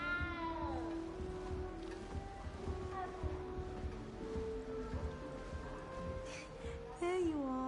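A cat meows repeatedly in Hogwarts Legacy: several drawn-out, rising and falling cries spaced across the moment over a soft ambient background, with a final meow near the end.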